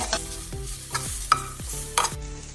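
Tomatoes stirred into browned onions in a pan for an Indian egg masala curry, a few scraping stir strokes roughly every half second over a soft, steady sizzle, close and alone with no talk.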